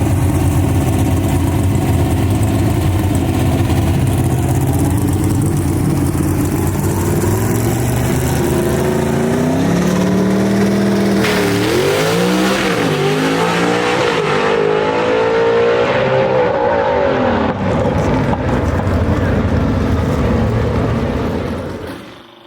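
A drag racing gasser, one of the AFX cars, runs at Shadyside Dragway, its loud engine roaring steadily before a sweeping rise and fall in pitch as it launches and pulls away, fading near the end.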